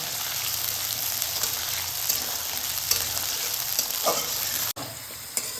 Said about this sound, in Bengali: তেল গরম হয়ে গেছে, আমি এই আলুগুলোকে ভেজে নেব। আলুটা পুরো লাল লাল করে ভেজে নেব।